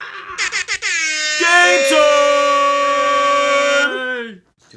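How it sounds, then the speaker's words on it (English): Several short air horn toots followed by a long, loud sustained blast that fades out, with voices and laughter mixed in at the start. "I told myself I wasn't going to bring back the air horn, and I did it."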